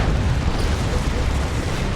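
Orbital strike explosions in the real-time strategy game Dawn of War 2, during a 3v3 battle: a dense, continuous roar of booming blasts with heavy low rumble, loud and steady throughout with no clear gaps between detonations.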